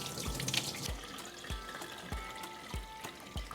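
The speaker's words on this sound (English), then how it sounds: "Rinse the chicken under running cold water." Cold tap water runs steadily while raw chicken is rinsed under it in a kitchen sink, a continuous close splashing wash with soft repeated low thumps as the meat is handled.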